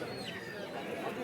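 Pigeons coo and flutter in a bird market, a dense overlapping murmur of birds heard close and continuous, with faint voices in the background.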